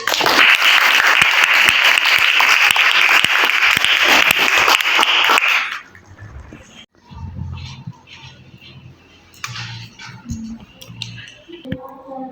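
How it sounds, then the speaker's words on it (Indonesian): An audience at an Indonesian-language teacher training session gives loud, dense applause for about five seconds, which then stops abruptly, leaving a quiet room with scattered soft bumps and shuffling. "Beri tepuk tangan."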